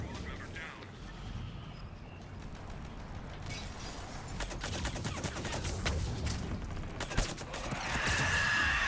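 Rapid gunfire bursts ring out in a Mass Effect 3 multiplayer match, set under a voice and game chatter. The shooting rattles on continuously and intensifies toward the end.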